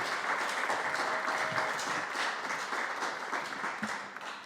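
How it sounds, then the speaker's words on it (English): Audience at a sustainability festival poetry reading applauding performers, a continuous crowd of hands clapping that holds steady then tapers slightly, heard from within the room. "please, round of applause for the Sonic Duo"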